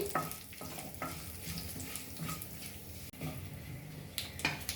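Urad dal, chana dal and cut dry red chillies sizzle in hot oil for a South Indian tempering with mustard and cumin, a steady crackling fry broken by scrapes and clinks of a spoon stirring in the pan, close and continuous.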